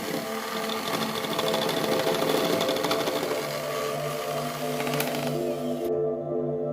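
An electric mixer beating layered cake batter with blueberries, a steady close mechanical whir with tonal hum, cutting off suddenly near the end.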